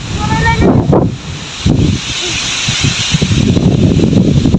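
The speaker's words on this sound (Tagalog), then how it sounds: "Ang lakas ng hangin." Strong typhoon wind roars steadily, buffeting the microphone with loud gusts and rustling, while a person talks intermittently underneath.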